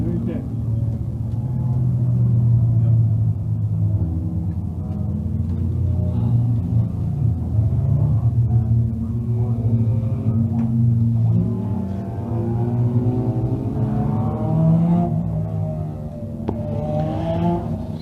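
Thunder Car Division stock cars race in a 20-lap feature on an oval track, their engines a loud, continuous roar that swells and fades as they pass, under steady announcer commentary.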